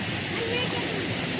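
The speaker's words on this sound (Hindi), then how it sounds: "ये देखिए दोस्तों, कितना स्पीड में पानी फेंक रहा है यहाँ।" Water gushes out at high speed where a bicycle is about to be washed and people will bathe, a steady, close, loud rushing that runs without a break.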